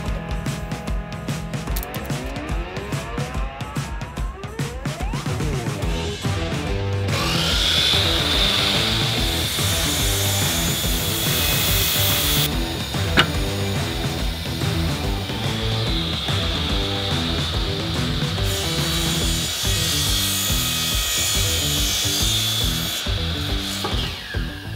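A laser-guided power saw cuts wood during a camper van build: a motor whines up and bites into the board with a loud, steady rasping drone that runs for most of the stretch with brief changes in pitch, no talking.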